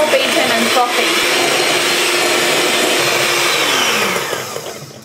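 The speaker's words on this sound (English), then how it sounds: "I'm just going to crack those into a bowl and beat them" A loud, steady motorized whir runs for about four seconds as eggs are beaten in a bowl for a jelly roll, then winds down and fades near the end.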